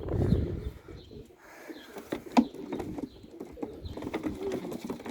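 Racing pigeons coo softly and steadily amid rustling and fluttering noises, with a sharper flapping burst partway through; no voices.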